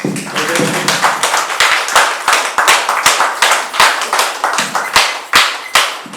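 An audience at a spiritual discourse on the Shirdi Sai Satcharitra claps loudly and close, a dense run of sharp hand claps that pulses rhythmically and continues to the end with no talking.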